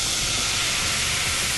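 White wine poured into a hot sauté pan gives off a short, steady, loud sizzle and steamy hiss.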